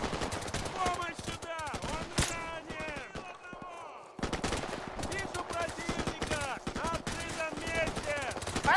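Gunfire at a house in Call of Duty: Modern Warfare Remastered, dense bursts of automatic and single shots crackling continuously, with a brief lull midway and voices talking among the shots.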